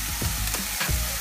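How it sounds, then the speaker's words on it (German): Meat fries with curry paste in a pan as it is stirred, giving a dense, steady sizzle with scraping stir strokes across it, close and loud. "und brate das dann gemeinsam mit dem Fleisch etwas an und dabei schön rumrühren"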